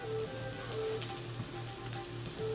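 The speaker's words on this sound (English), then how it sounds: "Sweating our sausages, get them nice and brown" Sausages sweat and brown in a pan while Jambalaya is prepared for a Mardi Gras feast, giving a steady close sizzle under a low background hum, with no talking.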